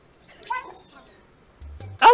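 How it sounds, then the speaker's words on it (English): A cat meows twice in the video game Stray, a short mewing call followed by a louder, brighter meow at the end, in a quiet in-game bar setting. "Oh, look at him smiling because I meowed."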